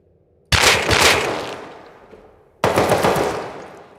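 Gunfire in the survival video game Rust, military tunnel area: two loud, close automatic bursts, the first starting sharply and trailing off over two seconds, the second following after a short gap, with no talk.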